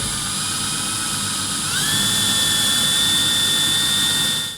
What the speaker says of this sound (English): our drill bit's going to be more than long enough to be able to reach all the way through our wall